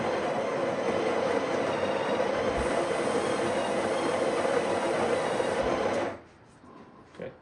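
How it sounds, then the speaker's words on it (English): The built-in grinder of a Breville Barista Express grinds a coffee dose with a loud, steady mechanical whir for about six seconds, then cuts off abruptly, leaving near quiet with a small click. "gonna grind the dose in 2 steps rather than in 1 go"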